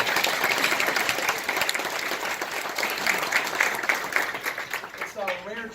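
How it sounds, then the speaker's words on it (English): A brunch crowd gives a warm round of applause for the kitchen staff, a dense, steady clapping that holds at moderate loudness before thinning out, with voices mixed in throughout and a person speaking near the end. "We give them a round of applause."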